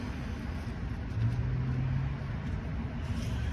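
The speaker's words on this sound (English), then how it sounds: "Sorry for all the traffic noise, we live on a busy street." Low, steady rumble of traffic on a busy street in the background, with a vehicle's engine swelling slightly partway through; faint and continuous.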